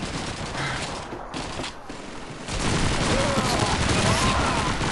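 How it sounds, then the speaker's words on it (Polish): Pistol and other gunfire in the World War II shooter Call of Duty 2, dense overlapping shots and explosions in a continuous battle din that swells louder partway through, with some voices underneath. "Myślę, że on ciebie strzela z pistoletu."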